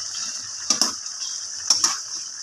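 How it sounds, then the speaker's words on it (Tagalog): Sayote and pork belly boil in a pot of water, giving a steady watery hiss broken by two pairs of brief bubbling surges. "kumukulo na siya"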